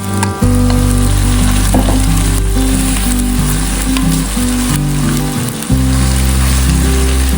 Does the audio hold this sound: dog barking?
no